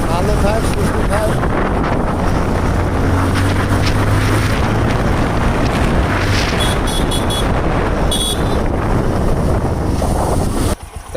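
A Bajaj motorcycle engine runs steadily while riding, its loud drone partly masked by heavy wind rush across the microphone throughout.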